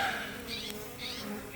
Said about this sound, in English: get rid of these bees that are nesting in your eave